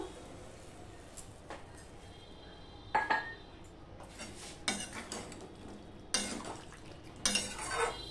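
A lid goes onto a pot of vegetarian drumstick, okra and potato curry, giving several distinct metallic clanks and rattles over a quiet kitchen background with a faint simmer.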